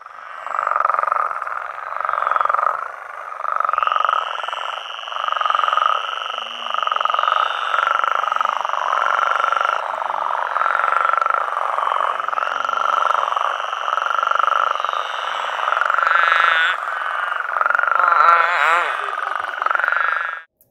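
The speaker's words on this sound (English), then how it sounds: "the males will actually hop in there and call to attract the females" Male spadefoot toads call from a desert pond, a dense chorus of rasping, pulsing croaks repeating steadily throughout, loud and close, with a few high sustained trills layered over the overlapping calls.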